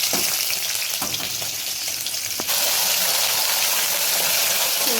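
Bay leaves and whole spices hit hot oil for a tempering for chickpea curry, with a steady close sizzle and crackle that jumps louder halfway through as more goes into the pan, broken by a few sharp clicks.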